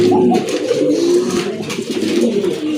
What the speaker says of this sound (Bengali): আরেক জোড়া কবুতর, খুবই কোয়ালিটিফুল এক জোড়া কবুতর